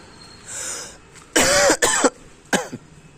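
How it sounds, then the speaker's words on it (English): A person with a cold coughs in a few harsh, hoarse bursts, two close together and then a shorter one, loud and near with nobody speaking, while a dog eats chicken and rice nearby. "This cough and cold is just terrible"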